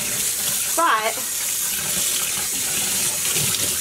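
Warm tap water runs steadily over freshly dyed yarn being rinsed in a sink, a continuous broadband wash with a brief spoken word near the start.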